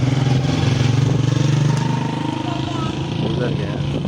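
A motorcycle engine drones steadily at close range, its low rumble holding fairly constant with a faint rattle, as people talk over it.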